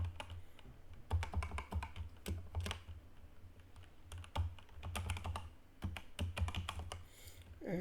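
Quick, uneven taps on a computer keyboard as a username and password are entered, soft and close, bunched into short bursts with brief pauses and no talk.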